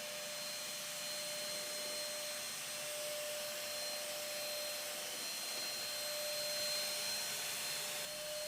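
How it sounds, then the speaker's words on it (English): A cordless vacuum cleaner runs steadily with a high-pitched motor whine and airy hiss, constant and close, no voices. "For a cordless vacuum cleaner, it has plenty of suction power."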